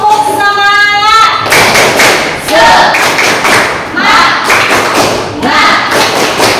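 An Indonesian class performs a rhythmic spirit clap, loud repeated bursts of group clapping in a patterned beat, opened by a sung or chanted voice and mixed with voices throughout.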